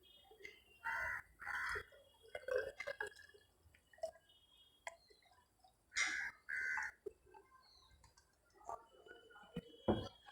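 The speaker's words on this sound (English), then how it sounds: "At first we take distilled water in this reagent bottle," Distilled water poured into a reagent bottle for diluting sulphuric acid, heard as short, faint separate trickles and drips with quiet pauses between them.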